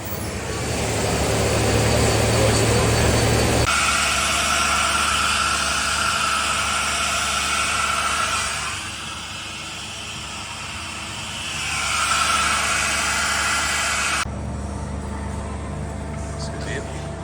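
A Mazak SQT CNC turning centre's spindle spins up at around 1700 to 2000 RPM, giving a steady, loud mechanical whine and hum that swells, dips briefly, then rises again under intermittent talk.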